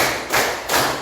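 Children clap together in a counting clap game, with two to three firm, dull claps in quick succession, close and loud with no talk over them.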